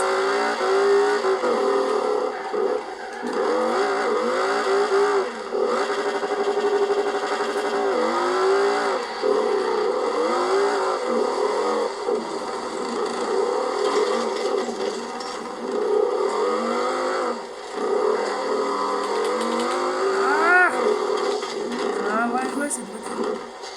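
A V10 car engine in the racing game Forza Horizon 4 revs and shifts through repeated rising sweeps, loud and continuous, with tire squeal during a drift and a voice talking over it.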